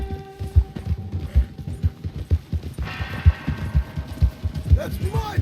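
Horse hooves clip-clop in a video game in a steady, even rhythm of close, distinct hoofbeats. Faint ambient game sounds sit underneath, and a brief whinny-like cry appears near the end.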